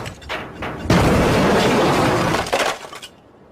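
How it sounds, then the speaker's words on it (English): A 1980s BMW dropped upside down from a crane about eight feet up slams into the ground with one loud, sudden crash of crunching metal and breaking glass that rings on for about two seconds before dying away. "What we have here is a 1980s BMW hanging upside down 8 feet from the ground. And what we're going to do is drop it."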